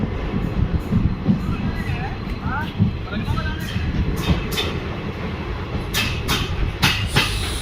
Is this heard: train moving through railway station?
yes